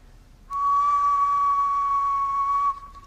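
A single steady whistled note, clear and sustained for about two seconds, with no other sound around it.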